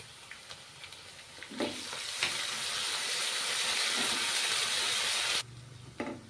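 Ginger-garlic paste sizzling loudly in hot oil with golden-browned onions in a pan, a steady dense frying hiss with a few stirring clinks, cutting out abruptly near the end.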